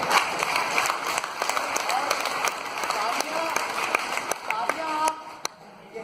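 An audience at a seminar in Sector 93, Noida, claps in scattered bursts of sharp, rapid hand slaps, steady and fairly close throughout, with someone talking over the applause.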